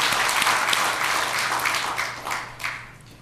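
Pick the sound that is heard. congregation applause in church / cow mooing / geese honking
congregation applause in church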